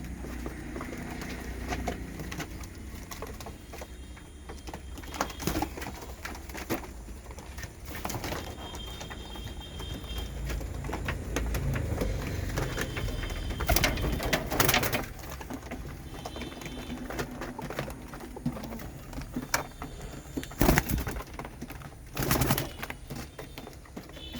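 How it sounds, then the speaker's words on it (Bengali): Pigeons in a pigeon house feeding together while some sit in their nests, with soft cooing and bird calls over a steady low background hum, punctuated by scattered knocks and bursts of activity. "সবগুলা কবুতর একসাথে কিভাবে খাচ্ছে দেখেন, আর কিছু উপরে নিচে বাসায় বসে আছে।"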